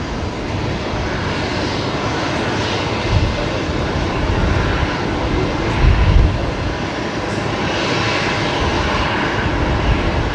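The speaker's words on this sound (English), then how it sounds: "try and pick up the Link Airways Saab that's coming in here on runway 19 left" A Link Airways Saab turboprop lands at night on runway 19 left at Brisbane Airport, its steady engine drone loud and continuous for about ten seconds with slight swells and a low rumble, and no talking.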